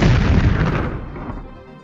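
A bomb exploding in the video game Fire Emblem 3: one loud, booming blast that decays over about two seconds with a low rumble.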